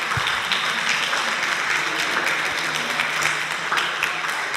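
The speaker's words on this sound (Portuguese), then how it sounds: "Uma salva de palmas, exato, uma salva de palmas" An audience applauds young people at a citizens' dialogue event on European elections, with sustained, even clapping filling the whole stretch at a steady, fairly loud level.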